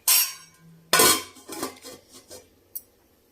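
A metal lid lands on a pot of simmering sambar in a home kitchen: two sharp clanks, then a few lighter rattles and a final small clink, close and otherwise quiet.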